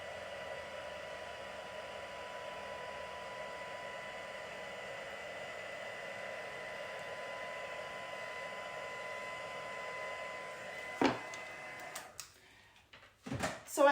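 A heat tool used for heat embossing blows a steady, even whoosh of hot air at close range, then cuts off near the end, followed by a few brief clicks and handling knocks.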